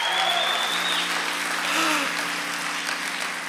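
Clapping fills a church during an energetic service, sustained applause from the congregation with voices mixed in, steady and fairly loud throughout.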